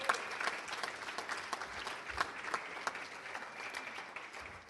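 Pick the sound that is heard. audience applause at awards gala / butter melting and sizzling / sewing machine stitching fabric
audience applause at awards gala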